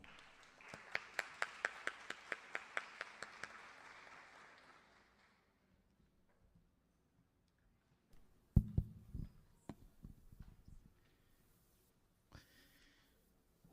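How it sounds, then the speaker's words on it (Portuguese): A short burst of rhythmic clapping from a lecture audience at a university talk on social entrepreneurship, fading out after a few seconds, followed by a quiet pause and a few scattered knocks and handling noises. "Uma salva de palmas para o Vitor Meirelles."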